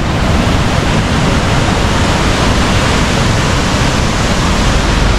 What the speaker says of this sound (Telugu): సో ఇదైతే చాలా పెద్ద వాటర్ ఫాల్